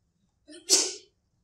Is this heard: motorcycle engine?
no